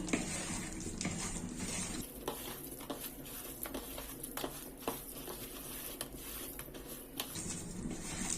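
Chicken pieces being mixed with corn flour, making close, quiet sticky squishing and scraping with scattered small taps on the bowl, steady throughout and without talk.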